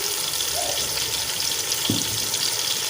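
Tomato paste and crushed spices with red chili hit a hot pan for beef kabab pulao, a broad steady sizzle with a brief stir or clink partway through.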